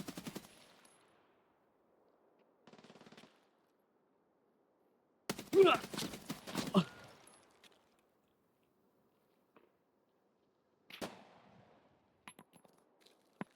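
Gunfire in the video game Escape from Tarkov: a short early burst, a brief faint rattle near three seconds, a louder volley of rapid shots, and a final burst, with near-silence between them.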